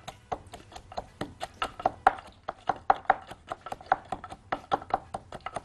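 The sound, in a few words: garlic cloves being crushed with salt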